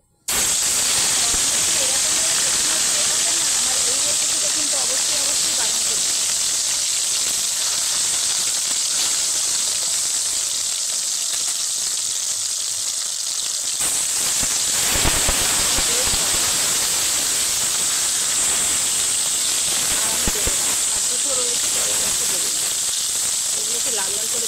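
Katla fish belly pieces rubbed with salt and turmeric fry in white oil in a kadai, giving a loud, continuous sizzling hiss that barely changes throughout, with a brief sharper crackle near the middle.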